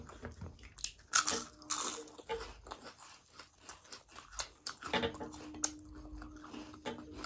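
Crunchy papad being bitten and chewed at a meal of khichdi and fried vegetables, loud close crackling bites followed by softer chewing over several seconds, no talk.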